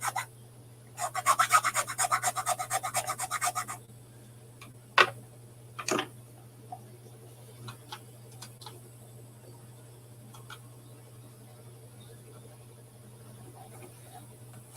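Brief rasping strokes as material is rubbed off a Stern pinball machine part, a rapid run of about three seconds followed by a few isolated taps and clicks, close and alone over a steady low hum.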